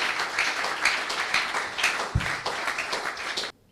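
Church congregation applauding and acclaiming the Lord, a steady roomful of clapping with faint cheering voices throughout, ending abruptly.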